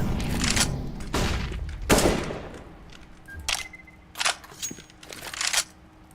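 A flashbang grenade goes off in a video game amid a string of loud, uneven bursts and gunfire-like blasts, some sharp and close, others rumbling and spaced apart.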